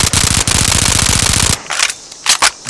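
Advanced Warfare BAL-27 rifle in Fallout 4, firing 5.56 ammo fully automatic, lets out a loud, rapid, even stream of shots for about a second and a half, followed by a few sharper mechanical clacks and clicks.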